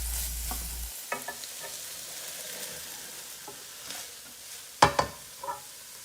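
Cooked chicken curry filling mixed with cream is stirred in a pan, with intermittent scrapes and a few sharp utensil clinks over a faint sizzle.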